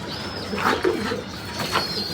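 A few soft pigeon coos murmur close by on a rooftop over a low background hum, with a faint thin whine running underneath.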